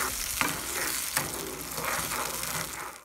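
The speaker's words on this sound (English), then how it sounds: "now I'm adding the garlic and lime mixture into the oil" Garlic and lime mixture poured into hot olive oil for Cuban yuca con mojo sizzles loudly and evenly, with a couple of sharp pops near the start.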